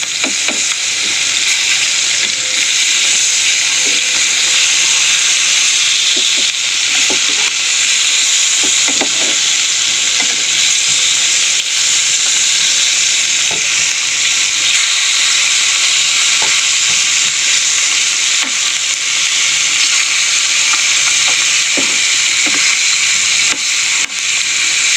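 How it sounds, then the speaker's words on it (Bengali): Fish fry in a pan, browning in hot oil with a dense, steady sizzle and occasional sharp pops and crackles, loud and close for the whole stretch without any voices. "দেখো মাছগুলো ভালো করে লাল লাল করে ভাজা হয়ে গেছে।"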